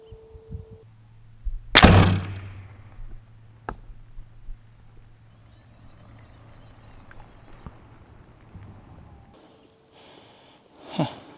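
A Bear Alaskan XT crossbow fires outdoors at a 35-yard target: a single sharp, loud snap near the start with a short ringing tail, then quiet background and a brief rustle at the end.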